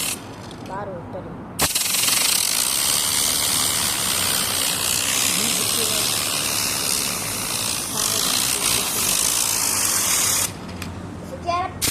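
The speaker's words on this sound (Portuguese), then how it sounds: "É o motor de um carro." A small fan motor built from Lego whirs loudly with a steady buzzing drone that sounds like a running car engine. It starts abruptly after a brief pause, runs on, then cuts off, and a voice talks around it.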